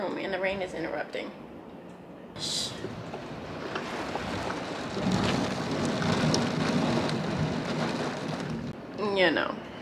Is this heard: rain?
yes